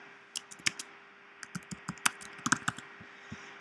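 Computer keyboard typing in an office, with a dozen or so quick, uneven keystrokes in short bursts, fairly close and crisp, and no talking.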